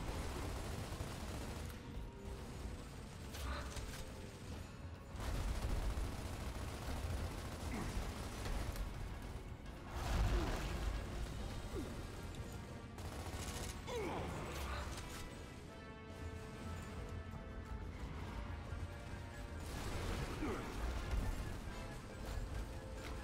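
Gunfire from the Gears of War shooter on PC rattles through a battle, with bursts and crashes under game noise at a moderate level, while voices talk over it now and then.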